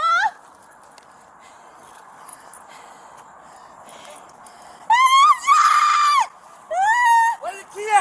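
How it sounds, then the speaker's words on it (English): High-pitched female screams of pain from a female officer during a fugitive arrest, loud bursts in the middle and near the end over a low background rumble. "after hearing the female officer's screams of pain"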